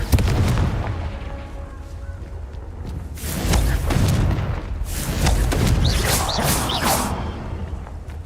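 Confringo fire spell in Hogwarts Legacy detonates as repeated booming blasts with rushing whooshes and crackling debris, several heavy impacts spaced a second or two apart.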